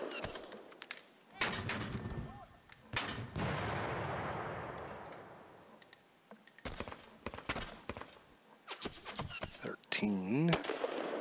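Sharp gunshot and artillery bursts sound in the wargame Panzer Campaigns Stalingrad 42, arriving in irregular clusters over a rumbling background, with a voice talking briefly near the end.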